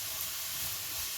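Spaghetti squash strands, seasoned with salt and pepper, sauté in a hot pan, giving a steady, close, even sizzling hiss with no voices.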